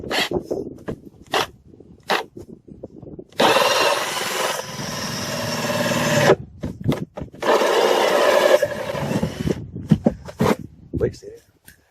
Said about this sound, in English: So now we're going to drill the 2-inch hole.